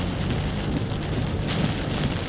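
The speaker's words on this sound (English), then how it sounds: "It's raining" Steady rain falling outside during a bad storm on the way to a store, an even dense hiss of drops with a low road rumble beneath, short and unbroken, no one talking.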